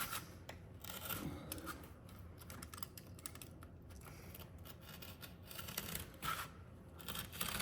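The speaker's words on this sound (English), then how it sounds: "Now the only thing left to do is just trim it." A sharp blade trims Phillip Jeffries grasscloth wallpaper across its horizontal fibers, making soft, scratchy cutting and rasping strokes in uneven bursts, close and quiet, with no talking.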